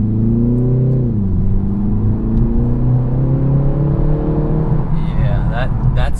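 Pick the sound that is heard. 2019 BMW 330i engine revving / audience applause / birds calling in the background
2019 BMW 330i engine revving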